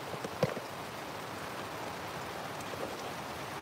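Rain pours outside on a farm during an approaching storm, a steady, faint hiss of falling drops with a couple of louder taps early on and no voices.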